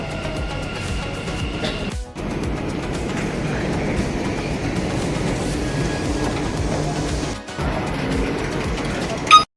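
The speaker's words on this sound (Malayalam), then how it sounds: "ഈ 2 മിനിറ്റ്സിനുള്ളിൽ നമുക്ക് നമ്മുടെ മെട്രോ വരും പോകാനുള്ളത്." A Dubai Metro train pulls into a station with a steady, loud rolling rumble and rail noise that fills the platform, broken by a couple of brief dips and a sharp burst at the end.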